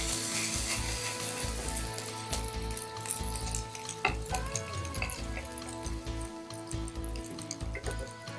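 Capsicum grills and toasts in a pan, giving a close, busy sizzle with popping and spitting throughout, one sharp clack midway, and faint pan and stirring noises.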